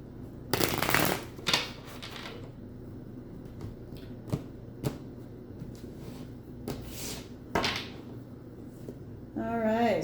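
Tarot cards are shuffled and handled in bursts of crisp riffling and slapping, close and clear, separated by quieter pauses, with a voice briefly speaking near the end.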